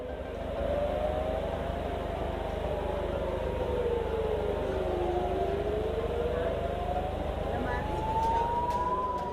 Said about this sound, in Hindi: उत्तरी इलाके में लगातार हवाई हमलों के सायरन बज रहे हैं